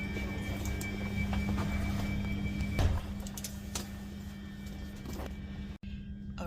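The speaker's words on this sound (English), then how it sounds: "I just boarded the train, the Heathrow Express" Interior of the Heathrow Express train: a steady low rumble and hum with faint clicks and knocks, a person speaking over it, and a brief sharp dropout near the end.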